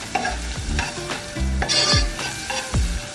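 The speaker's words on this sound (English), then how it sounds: "And we're gonna stir it." Turmeric, garlic powder, paprika, chili powder and salt are stirred in a sizzling pan, loud repeated scraping strokes in a steady rhythm over a constant frying hiss, no voices.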